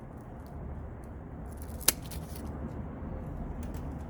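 A single sharp snip of scissors cutting sphagnum moss away from a rooted rose cutting, one quick click over a quiet, steady background hiss.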